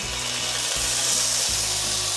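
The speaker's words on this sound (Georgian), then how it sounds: "გახურებულ ტაფაზე მოვათავსოთ ბეკონი." Bacon sizzles in a preheated frying pan for a breakfast of eggs Benedict, a loud, close, continuous hiss with faint low tones beneath.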